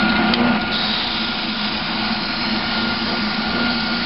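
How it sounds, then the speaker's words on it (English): A spindle sander smooths the rough edges of a wooden board for a foosball practice plate, giving a steady, loud, uniform whirring roar with no pauses. "a spindle sander will help us clean up the rough edges"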